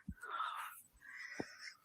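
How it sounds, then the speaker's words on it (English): A person breathes very deeply indoors at night, two long, faint, airy breaths close to the microphone, with soft low thumps between them. "Oh, that's me breathing very deeply."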